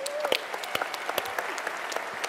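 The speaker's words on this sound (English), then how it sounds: "So give her a round of applause." Audience applause at the DEF CON 24 closing ceremony, a dense steady clatter of many hands clapping throughout, fairly close and loud, with a brief voice cutting in near the start.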